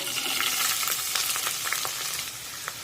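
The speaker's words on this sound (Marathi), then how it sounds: "हा कांदा हलका तांबूस रंगावर भाजून घेऊया कांदा सतत परतत राहायचं" Finely chopped onion with curry leaves sizzles steadily in a hot pan for jowar-flour ukadpendi, with light stirring scrapes and small crackles running through the whole stretch at close range.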